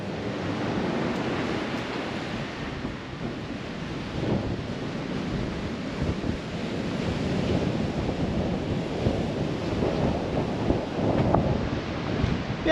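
Waves wash onto a fine-sand beach at a seaside village in south Crete. The surf rumbles softly and continuously, mixed with wind buffeting the microphone, and there is no talk.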